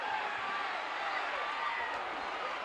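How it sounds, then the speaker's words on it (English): Crowd at a 1979 wrestling match between Jose Lothario and Ken Patera, a dense, steady roar that sounds distant and continuous. "Listen to the noise from that crowd here as Ken Patera catches a whopping from Jose Lothario"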